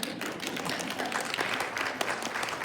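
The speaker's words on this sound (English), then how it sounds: "Yeah, you can clap." Scattered audience clapping at a town hall awards announcement, moderately quiet and uneven, continuing steadily through the short stretch.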